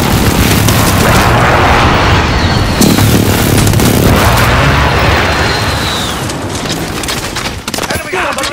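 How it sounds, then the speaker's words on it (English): Precision airstrike explosions in a video game, a loud barrage of overlapping booms and crackling blasts rolling on for several seconds, with voices calling out over the din. "Enemy precision airstrike. Take cover."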